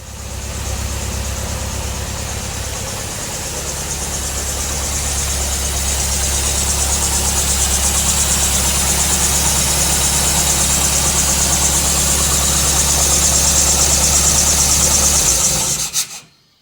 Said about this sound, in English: So up front we have the 2-litre twin cam Alfa Romeo engine.